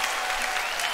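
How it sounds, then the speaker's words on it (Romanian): A brief, full wash of steady audience applause for Ecaterina Andronescu at a celebrity roast show, loud and dense with no gaps. "Doamnelor și domnilor, aplauze puternice pentru Ecaterina Andronescu!"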